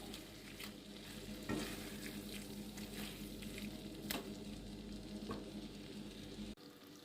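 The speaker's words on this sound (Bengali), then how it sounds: "এখন এই ভেজে রাখা পটলগুলো এর মধ্যে দিয়ে দেব, দিয়ে আর একটু ভালো করে কষিয়ে নেব ডালের সাথে।" Fried pointed gourd being stir-fried with lentils over low heat, a steady soft sizzle with repeated scraping stirs and a few sharper clinks, close and alone without talk.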